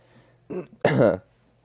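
A person with a two-day cough clears their throat in two bursts, a short rasp followed by a longer, louder cough-like clearing, close to the mic against a quiet background.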